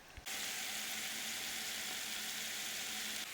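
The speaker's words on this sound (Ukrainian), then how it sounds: "Спочатку підсмажуємо цибулю до прозорості." Onion frying in a pan: a steady, even sizzle runs throughout, starting abruptly after a brief moment of quiet.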